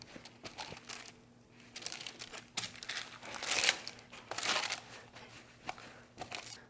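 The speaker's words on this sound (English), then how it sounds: "pat them dry with a paper towel. So we just dry them off and get both sides" Raw baby back pork ribs are patted dry with a paper towel in a kitchen, giving soft crinkling and dabbing rustles with scattered light taps, close and quiet, swelling briefly in the middle, with a faint low hum beneath.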